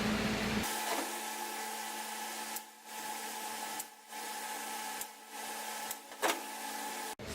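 Trimming sheet-metal corners off an F100 truck bed panel, a steady buzzing tool drone broken by short gaps and a few sharp ticks, all fairly quiet, with no talking.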